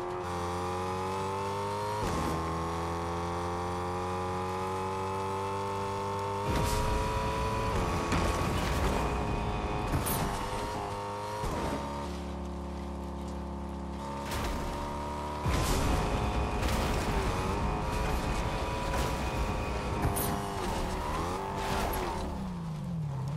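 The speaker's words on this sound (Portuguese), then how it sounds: "Atrás de mim. Carro laranja. Parou ali em cima." An orange car in a video game drives with a sustained engine drone that climbs and shifts pitch as it revs, broken by abrupt changes, loud and continuous with no talk.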